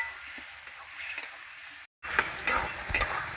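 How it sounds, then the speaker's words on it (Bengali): Spice masala with a splash of water stirred and fried in a pan for a cabbage dish with katla fish head, soft sizzling and scraping, a brief gap, then louder stirring with a few spatula taps. "একটু জল দিয়ে দেবো নাহলে মশলাটা পুড়ে যাবে জল দিয়ে ভালো করে কষাবো আমি"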